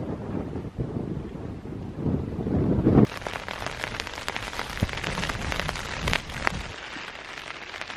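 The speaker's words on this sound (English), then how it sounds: "It's windy, it's raining, and there's pretty much zero visibility" Wind and rain beat down on a Scottish Highlands loch, with gusty microphone buffeting at first, then a sharp cut to close, crackling raindrops pattering on a surface amid steady blustery wind.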